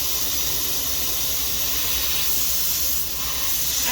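Oil spraying and hissing out of a big block stroker engine in a 1973 Plymouth Satellite, a steady broadband spray lasting throughout, close and fairly loud with no talking.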